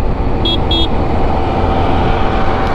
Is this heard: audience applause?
no